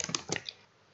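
Typing on a computer keyboard during Java programming, a quick cluster of close, crisp key clicks in the first half, then quiet.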